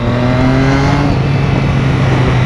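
Triumph Street Triple 1075 motorcycle engine revving loud and close, a steady droning roar with a falling rev tone at the start and then a constant hum.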